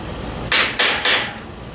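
A hammer strikes three sharp metallic taps in quick succession while tightening poppet valves on a 1600 VW engine, each hit close and loud with a short ring.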